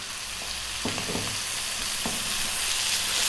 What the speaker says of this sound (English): Let's really kind of try and cook those tomatoes down a little bit.